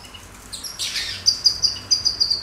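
Small caged birds chirp close by, a burst of bright tweets swelling into a rapid, steady series of sharp repeated notes, loud and clear with no talk over them.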